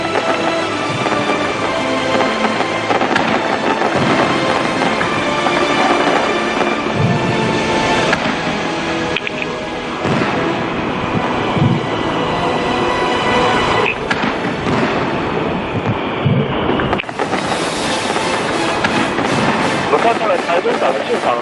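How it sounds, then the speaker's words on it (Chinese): A National Day fireworks show at Taichung Port, with big 20-inch shells launched in gusty wind, sends out repeated booming thumps over a constant rumble while a voice talks over them. "我们来看看现场国庆烟火释放的情形。"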